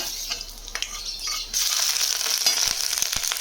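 Ginger paste with dried red chilli and whole garam masala sizzling in a frying pan, the hiss jumping louder as salt goes in and spattering steadily close by.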